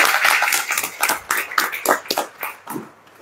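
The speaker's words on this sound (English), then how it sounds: "So a round of applause, please, for those volunteers coming from Canada." Applause for volunteers at a farewell dinner in Cape Town: a crowd claps loudly and steadily at close range, with fast irregular hand claps filling the whole span.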